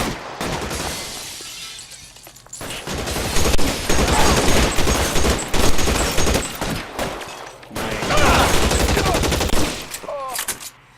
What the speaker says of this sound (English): Good old Tommy gun with a lot of rounds in it.